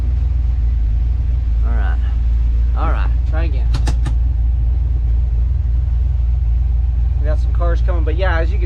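A car engine fitted with a high-stall torque converter hums as a steady low rumble on light throttle, with someone talking over it at intervals.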